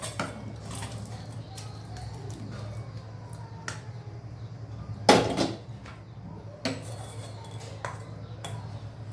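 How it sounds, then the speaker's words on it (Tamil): A spoon scrapes and clinks against a pan and bowl while spicy squid thokku is moved across, giving scattered metallic taps and one louder clatter over a low kitchen hum. "இதை அப்படியே இன்னொரு பவுலுக்கு மாற்றி விடலாம்."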